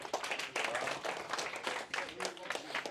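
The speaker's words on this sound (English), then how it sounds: "first round of applause for your shipmates" Shipmates applaud in a classroom, a short burst of clapping from a small group held steady and close for a few seconds.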